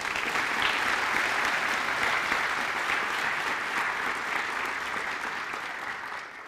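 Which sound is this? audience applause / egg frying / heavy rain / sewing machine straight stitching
audience applause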